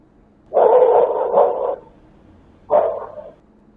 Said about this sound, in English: So the dog was barking. Barked a couple times.